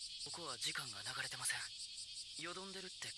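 Steady high-pitched insect chirring, like crickets, runs constantly in the background while a person talks over it.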